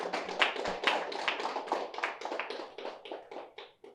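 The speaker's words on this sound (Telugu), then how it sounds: "గట్టిగా చప్పట్లు కొడదాం." An audience claps together at a birthday celebration gathering, producing a dense, steady patter of many hands that carries on evenly and then thins out toward the end.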